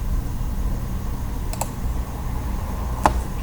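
A few light clicks of typing on a computer keyboard, two quick keystrokes near the middle and one sharper tap later, faint over a low background rumble.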